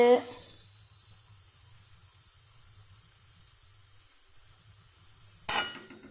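Oil heats in a kadai with a faint, steady hiss and sizzle, quiet and continuous throughout, with a brief clatter near the end.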